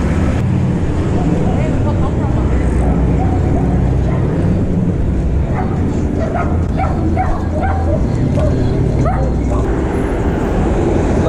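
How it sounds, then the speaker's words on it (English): Several dogs bark and yip on a busy Los Angeles street, a run of short barks in the middle distance over steady traffic and city noise, with some talk nearby. "A lot of people walking their dogs out here."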